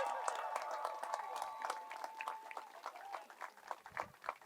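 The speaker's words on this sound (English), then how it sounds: "Let's give them a big round of applause" Outdoor crowd at a Pride Tower unveiling applauding beach safety helpers, scattered claps thinning over a few seconds, fairly faint, with a sustained tone and murmuring voices underneath.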